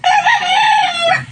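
Fighting rooster crowing once, loud and close, a single drawn-out call standing alone.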